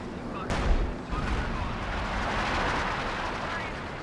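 Explosions in the World War II strategy game Company of Heroes as a base gets shelled: a sharp blast followed by a second crack and a long rolling rumble, with someone talking over it.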